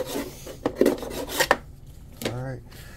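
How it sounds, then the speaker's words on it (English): Leftover double-sided tape is scraped off an RC hydroplane hull with an old paint scraper, giving short rasping strokes close up with small clicks and a brief squeak near the end. "Just using an old little paint scraper here."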